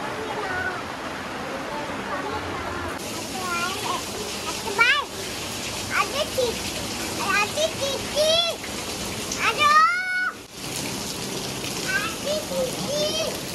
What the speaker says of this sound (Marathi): पाऊस आला पाऊस आला पाऊस आला.